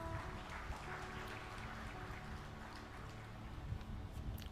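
An audience claps together at a Hindu devotional discourse gathering, a steady, dense wash of applause that holds at an even level throughout with no break.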